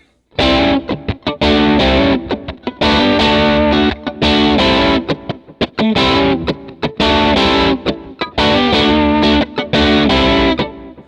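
A distorted electric guitar plays a choppy, rhythmic triad riff from a song's guitar part, short stabbed chords, loud and close, repeating in a funky pattern.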